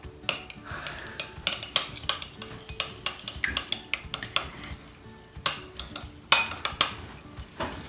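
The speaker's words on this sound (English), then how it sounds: "Then I'm just going to stir it." Spoon scraping and clinking against a bowl while chocolate chip cookie batter is stirred, a close, irregular run of sharp metallic taps and scrapes with no talking.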